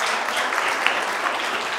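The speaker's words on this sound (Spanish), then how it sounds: "Un aplauso para ella, por favor." Audience applause for a volunteer at a live psychology therapy talk, a dense, steady clapping from a crowd that fills the whole moment without speech.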